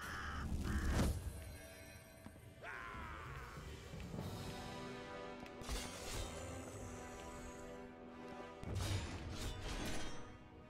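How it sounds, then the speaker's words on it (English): A crow caws during a crow sacrifice ability in the video game Wartile, mixed with clanking, crashing game effects and bursts of noise throughout. "Sacrifice a crow."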